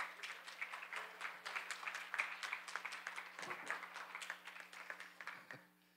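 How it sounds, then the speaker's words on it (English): A church congregation gives a hand clap during a service, soft and fairly distant, steady mixed clapping over a low hum that thins out toward the end. "give her a hand clap"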